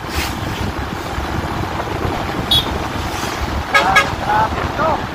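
Heavy road traffic in Lupi, Camarines Sur, with a steady engine rumble and several short car horn toots near the end, while someone talks over it.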